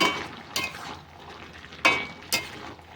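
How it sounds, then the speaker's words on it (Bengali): Rice flour being stirred into spinach stems in a pan, a soft sizzle underneath a few scraping spatula strokes against the pan, close and moderately loud with no talking. "চালের গুঁড়োটা দিয়ে ভালো করে মিশিয়ে নেব।"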